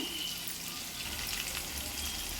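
Fish pieces fry in a pan for fish biryani, giving a steady, close sizzle with an even hiss that holds throughout, with no voices.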